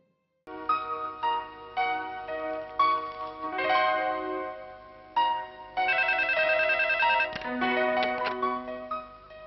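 A telephone rings in a repeating electronic melody, loud and steady, with no voices.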